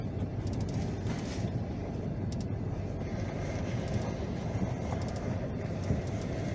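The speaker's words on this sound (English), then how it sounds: "There's that train again." A train passes near the historic Rose Hill Cemetery in Macon, Georgia, giving a steady, distant rumble and whoosh that holds without a break, with no voices over it.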